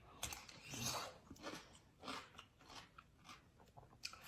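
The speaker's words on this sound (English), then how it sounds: "This is my best batch of pickles ever. It's so crunchy," Quiet, close crunching and chewing from several bites of a garlic dill pickle, crisp irregular crunches spread through the moment with no talking.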